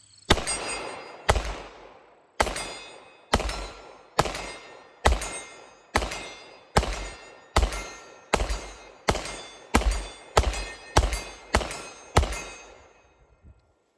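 A Springfield Echelon polymer pistol fires at steel targets 40 yards away: about fifteen sharp, loud shots, each with a ringing metallic clang from the steel. They come at an even pace that quickens toward the end, and no one speaks.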